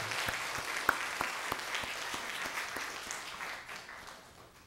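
A church congregation applauds its worship team, dense and even clapping from many hands in a large room, fading slightly toward the end.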